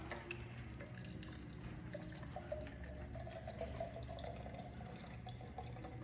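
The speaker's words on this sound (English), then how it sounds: "we're gonna strain that into our glass" A cranberry cocktail is strained from a shaker into a glass nearby, a soft continuous splashing with faint drips, without talk.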